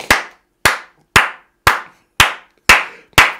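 A church congregation claps together in unison, seven sharp, evenly spaced loud claps about half a second apart.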